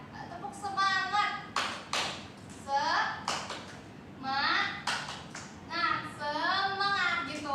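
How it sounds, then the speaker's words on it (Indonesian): A group of children performs the rhythmic 'tepuk semangat' spirit clap in a classroom group-guidance session, sharp claps in short patterned bursts alternating with chanted voices. "Tepuk semangat kali ya teman-teman."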